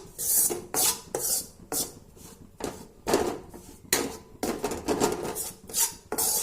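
Gram flour roasts over a low flame in a thick-bottomed pan for besan laddu, with repeated rhythmic scraping and rubbing strokes of a spoon against the metal, close and fairly loud.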